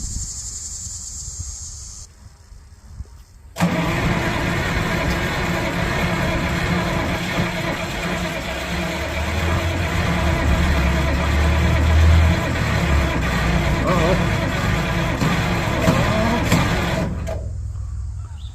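An Allis Chalmers 185 tractor with a broken throttle cotter key, its engine catching after a short crank and settling into a steady, loud, close rumbling idle that runs on for over ten seconds before cutting off.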